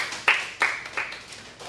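A church congregation breaks into scattered applause, a few sharp bursts of clapping that quickly thin out, close and brief.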